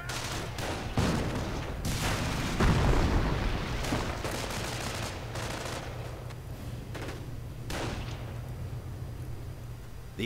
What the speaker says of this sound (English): simply getting exposed to so much heavy fire from so many riflemen, the MG and the Sherman and the tank destroyer